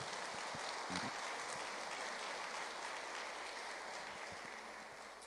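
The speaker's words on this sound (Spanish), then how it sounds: "Denle un aplauso a ese Jesucristo suficiente." Church congregation applause, a steady crowd of hands clapping at moderate, fairly distant level with a few brief low voices underneath, gradually softening toward the end.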